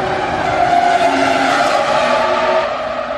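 Renault V10 Formula One racing car engine, a high-pitched screaming wail that holds steady and loud, with layered harmonic tones and slight pitch shifts across a few seconds, no talking.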